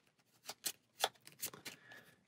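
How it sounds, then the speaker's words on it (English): Playing cards being shuffled at a tabletop during a Gloomhaven: Jaws of the Lion board game session, a few quick riffling bursts close by with short pauses between, no talking over it. "Give it a shuffle."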